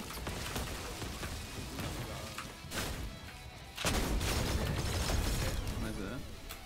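Gunfire crackles in the battle royale game Fortnite, with bursts of sharp shots and a loud, dense volley near the end over game noise.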